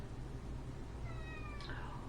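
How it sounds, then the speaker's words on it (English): Cat meowing indoors, a single faint drawn-out meow rising then falling, heard over a steady low background hum. "I think we have a kitty."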